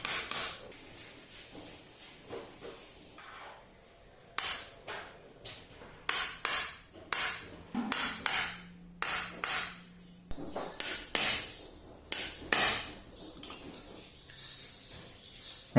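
Sharp metallic taps and knocks ring out in irregular bursts as bearings are worked into a heated crankcase of an HPI Baja 5B CY 26cc engine, close and distinct over a quiet background.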